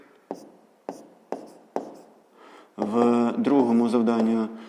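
A pen writes out the answer to a fifth-grade math exercise in four sharp, evenly spaced strokes or taps, followed by a voice speaking over the last couple of seconds.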